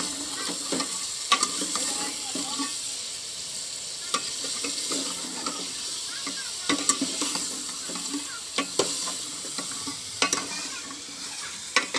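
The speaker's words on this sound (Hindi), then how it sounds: "अभी सारी डाल दी है और ये फ्राई हो रही है घी में।" Chicken sizzles steadily as it fries in ghee, broken by sharp scrapes and clacks of stirring in the pan every second or so.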